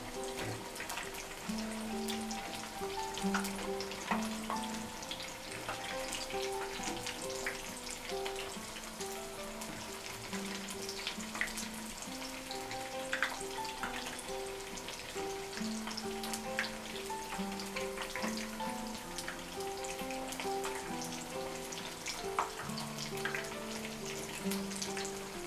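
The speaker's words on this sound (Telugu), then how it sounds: "బ్రౌన్ కలర్ వచ్చే వరకు వేయించుకోవాలి." Cowpea flatbreads (bobbarla rotti billalu) frying in a pan, a steady soft sizzle with faint crackles running unbroken throughout, alone and fairly quiet, with a low tonal hum underneath.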